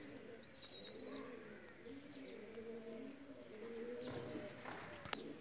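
A pigeon coos in low, rolling, repeated phrases close by, with a few higher chirps from other birds and faint background noise around it.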